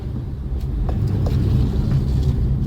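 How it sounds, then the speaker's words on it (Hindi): A car drives slowly on a narrow mountain road, a steady low engine and road rumble with no talking. "बहुत स्लो गाड़ी चल रही है यहाँ तो यार।"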